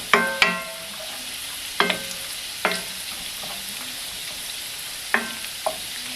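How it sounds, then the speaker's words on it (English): Sausage browns in a hot pan with a soft, steady sizzle, broken by sharp clacks of a utensil scraping and stirring at irregular intervals, close and without talk. "I'm going to let the sausage brown"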